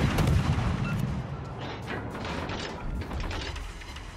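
Bismarck secondary guns fire in the World of Warships naval game, a quick series of booming cannon shots with rumbling low end, loud and close, stacked over continuous battle noise with no speech.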